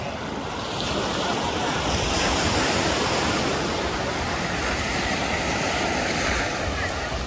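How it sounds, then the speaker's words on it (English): Ocean surf at an Antigua beach resort rushes steadily as a loud, continuous wash of breaking waves with some wind, filling the whole stretch without pause. "I'm going to go in the sea, going in the ocean."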